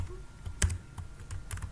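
Typing a name on a computer keyboard for an MS Word macro: several sharp key clicks in an uneven sequence, one louder tap standing out, heard close and without talk.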